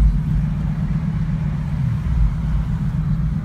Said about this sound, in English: Twin turbos cracking and a pop.